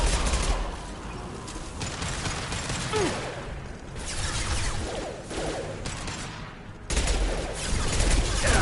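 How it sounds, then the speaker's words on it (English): Impact shots fire in a PS4 video game, a dense continuous barrage of gunfire-like bursts and mechanical clatter that drops briefly near the end and then returns loud. "Firing an impact shot."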